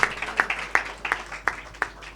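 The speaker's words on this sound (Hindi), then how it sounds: "ताली बजाइए" Scattered hand claps from a congregation during a church service, a few sharp bursts spread through a short stretch rather than sustained applause.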